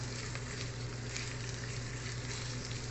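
Garlic frying in a pan as the base for pork sotanghon soup, a steady close sizzle and crackle of hot oil with no let-up, fairly loud and alone.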